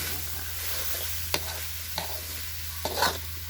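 Ingredients for Lao-style jaew bong chili paste dry-roasting in a pan over low to medium heat, with a soft continuous sizzle, a steady low hum and a few sharp scraping clinks of the spatula stirring.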